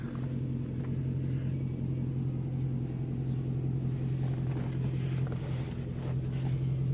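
A 2013 Chevrolet Camaro 2SS on Hotchkis one-inch lowering springs, its exhaust a steady deep droning hum heard from inside the car, even and moderately loud throughout with no voices.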